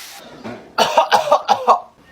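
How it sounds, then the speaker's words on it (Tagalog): A child coughs in a burst of about five close, rough coughs after a brief breathy sound, fairly near and loud, with no talking. "Inuubo ka ba? Opo, inuubo po ako."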